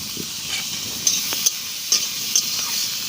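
Garlic and ginger paste with tomato frying in a pan, a loud steady sizzle with a few sharp spoon taps and scrapes against the pan at uneven intervals.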